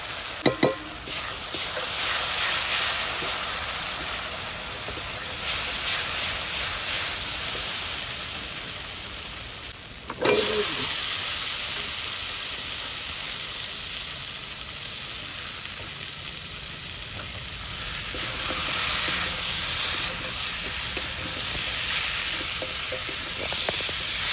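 Turmeric and chili powder sizzle in a hot pan with onions for Bengali potol chingri, a steady close frying hiss lasting throughout, broken by a brief stir or clatter partway and swelling slightly near the end.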